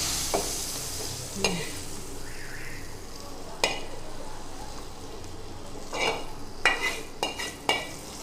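A quiet sizzle of hot tempering added to kadhi pakora runs throughout while sharp metallic clinks of a spoon against a pan strike at irregular intervals, growing busier toward the end.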